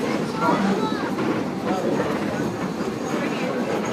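The Strasburg Rail Road train rolls along the tracks with a steady rumble and faint clatter, while a voice talks over the continuous noise.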